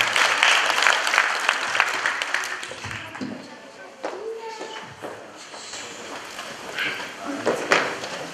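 An audience at a Romanian spring-themed show claps, loud and dense at first, then thins into scattered claps and shuffling before briefly swelling again.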